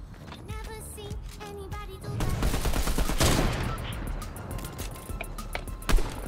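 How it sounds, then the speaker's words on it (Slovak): Gunfire in the Fortnite video game, a dense burst of rapid shots and crackling fire heard through the middle of the clip, preceded by game sound effects and ending with a single louder report. "Tu sa strieľa, aj tu sa strieľa."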